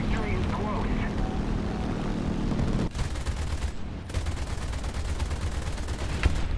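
An aircraft strafes a tank with gunfire in a tank combat video game, a dense roar of engine and rapid gunfire running loud and continuous throughout, with a brief dip partway through and a voice talking over it.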